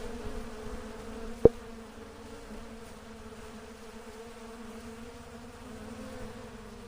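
Bees hum steadily around a smoked wooden hive during honey extraction, a continuous low drone with one sharp click partway through.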